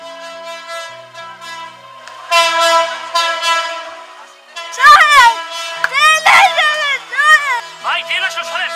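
A train approaches, sounding a long, loud, sustained horn in repeated blasts. Agitated voices shout over it in the second half.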